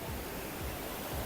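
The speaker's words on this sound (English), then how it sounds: "waves are real" Ocean waves wash onto the beach at Mirissa in the rainy season, a steady broadband surf roar with no voices over the short stretch.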